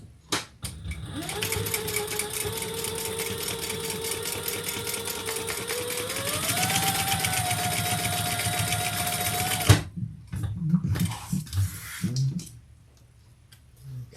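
Sewing machine basting fabric pieces for a backpack, running in one long steady whir that shifts slightly higher partway through, then stops and leaves a few soft handling clicks and rustles.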